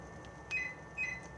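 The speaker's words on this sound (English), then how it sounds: "2 beeps, disarmed" Two short electronic beeps from a caravan alarm fob disarming, in quick succession about half a second apart, soft and clear over a low background hum.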